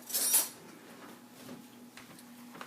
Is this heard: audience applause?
no